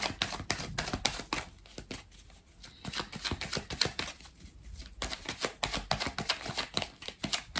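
Tarot cards being shuffled and laid down on a table, giving a run of crisp papery flicks and soft taps in uneven bursts, close and fairly quiet, with no talking.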